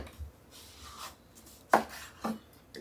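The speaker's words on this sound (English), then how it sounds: "And cut those in manageable little slices." A knife cuts cantaloupe melon into small slices, giving two or three crisp, separate chops with soft rubbing sounds between them, close and fairly quiet, with no talk.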